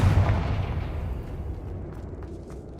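Confringo spell explosion in the video game Hogwarts Legacy: a single sharp blast that booms at the start and then decays into a fading rumble over a few seconds.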